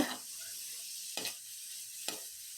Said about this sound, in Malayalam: ഒരു ചെറിയ ക്യാരറ്റ് കട്ട് ചെയ്തതും കൂടിയിട്ട് ജസ്റ്റ് ഒന്ന് വഴറ്റിയെടുക്കാം